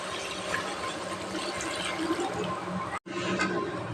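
Water pours steadily into a pot of chicken curry with chili powder, a continuous splashing rush, briefly interrupted near the end before resuming.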